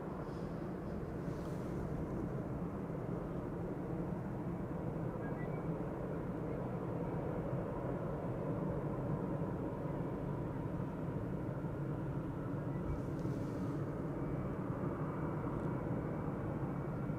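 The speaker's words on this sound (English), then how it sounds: "Passing overhead, and what you might pick up on the mic is KLM flight 1109, 737 outbound Stockholm" A KLM Boeing 737 outbound to Stockholm passes overhead near Amsterdam Schiphol Airport, a faint, steady broadband jet rumble that stays fairly constant throughout.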